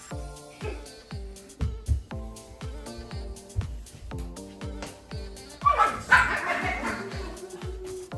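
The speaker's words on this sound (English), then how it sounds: "The dogs are upset." Big dogs bark, yip and whimper in agitation indoors, with repeated close, loud barks through most of the stretch and a sharper burst of yelps near the end.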